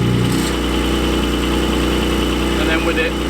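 Porsche GT4 with a Cargraphic exhaust idling with the valves closed, a steady, even mid-pitched hum throughout, with faint speech over it.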